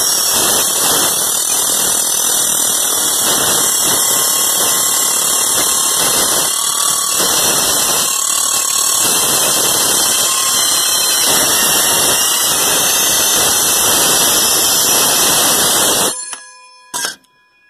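A power saw blade cuts steadily through metal for about sixteen seconds, a loud harsh whine with high ringing tones, then stops abruptly and leaves a couple of brief clatters.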